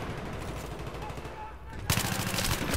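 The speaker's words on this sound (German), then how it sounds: "Der Beifahrer hat ganz einfach geschossen." Rapid gunfire comes from a tank's gunner in the video game Battlefield 3, with dense automatic bursts throughout that grow louder and sharper toward the end.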